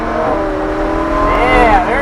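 A Lamborghini Huracán accelerates hard on a race track, its loud engine rising in pitch as the throttle rolls on, heard from inside the car over a steady road roar while a person talks.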